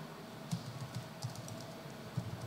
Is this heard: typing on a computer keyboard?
yes